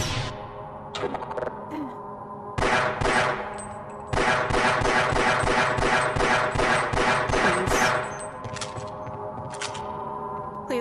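Rapid automatic gunfire from the Half-Life Insecure mod set in Xen, firing in sustained bursts of sharp repeated shots with short pauses between volleys, loud and close throughout.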